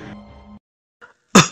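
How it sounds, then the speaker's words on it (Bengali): A single man clears his throat with a short cough, close and alone, during a narrated Bengali detective story; a brief low rumble fades to silence before a sharp, loud burst at the end. "খুব করে একটু কেশে গলাটা পরিষ্কার করে নিয়ে"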